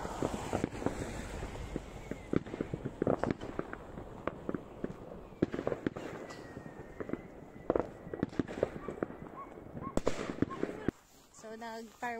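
New Year fireworks in Norway crackle and bang repeatedly throughout, a steady run of sharp reports at moderate distance, with people talking over them nearly the whole time.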